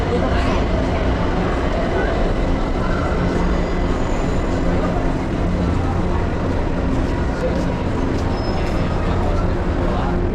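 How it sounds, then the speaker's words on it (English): Steady loud rumble and roar of a São Paulo metro train arriving at a station, continuous rolling noise with faint high squeals, no clear voices. "Everyone here is waiting for the train."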